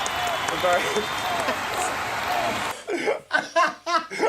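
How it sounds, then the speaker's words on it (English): Broad crackling applause fills the first few seconds, then gives way to bursts of laughter and voices. "Nice applause sound effect."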